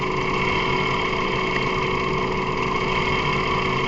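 A 2006 Mazda 3 engine with a blown head gasket between cylinders runs at idle, giving a steady, close, continuous mechanical drone with no speech over it.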